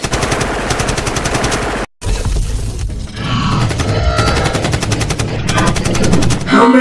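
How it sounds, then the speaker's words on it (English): Rapid machine gun fire in a stop-motion Transformers battle scene, loud dense bursts of shots with a brief break and shifting weapons, accompanied by grunts and effects. "Eat these bullets!"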